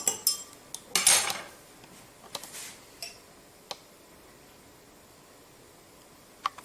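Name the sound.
stirring a solution with a spoon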